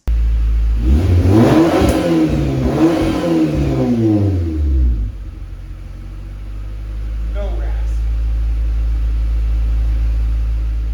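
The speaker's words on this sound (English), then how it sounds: "Here's a little rev clip of how it sounds." A Honda CRX engine revs sharply up and down a few times with a throaty note through a larger exhaust, then drops to a low, steady idle rumble.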